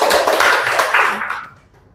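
Brief burst of audience applause at a Christian church teaching session, dense clapping filling the first second and a half before fading quickly to quiet.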